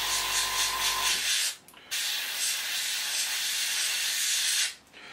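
An airbrush sprays thinned Mr. Colour paint across panels in a steady, close, loud hiss that breaks off briefly twice, with no voices over it.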